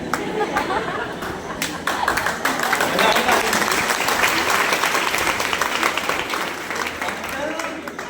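Audience applause at a live event, a dense wash of many hands clapping that swells after a brief start and holds steady and loud throughout, with some voices mixed in underneath.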